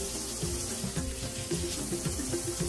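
Water runs steadily from a tap for a few seconds, a close, continuous splashing stream with no talking.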